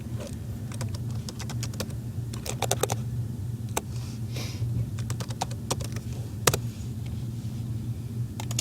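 Scattered clusters of keystrokes tap on a computer keyboard during a pharmacy search, irregular and fairly close, over a steady low background hum.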